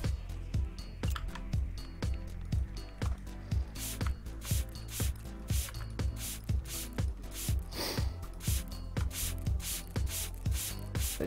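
Repeated short hissing sprays in the video game Godly Corp, a steady rhythm of sharp bursts running for several seconds at moderate volume, with no talking.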